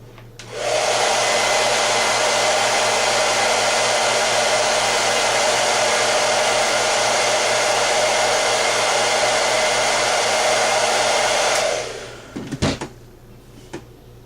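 A handheld hair dryer heats a pre-cut nail wrap, switching on to a steady loud whirring roar that holds for about eleven seconds before cutting off, followed by a few light clicks and knocks.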